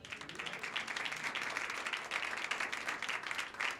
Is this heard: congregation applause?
yes